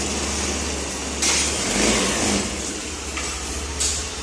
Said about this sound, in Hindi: गाड़ी स्टार्ट हो चुका है बिल्कुल ओके है।